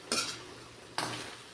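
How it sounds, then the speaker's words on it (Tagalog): Two distinct scraping strokes of a spatula stir moringa leaves and eggplant in a frying pan, with a faint sizzle underneath between the strokes. "Haluin natin."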